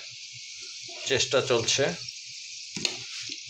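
Food made with red wheat flour sizzles steadily in hot oil while being flipped, a bright, constant frying hiss, with a person talking briefly over it partway through.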